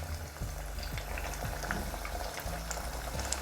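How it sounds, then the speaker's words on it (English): Food deep frying in hot oil while making devilled eggs, a steady dense bubbling and crackling sizzle with soft rhythmic pops, close and continuous with no talk. "I'll just deep fry until to make it crispy."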